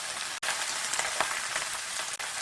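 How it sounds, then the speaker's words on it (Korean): Bok choy stir-frying in a hot pan gives a steady, close sizzle with a crackling spatter throughout, broken by two brief stir or lift gaps, with no talk. "다 익었으면 청경채를 넣고 볶아요"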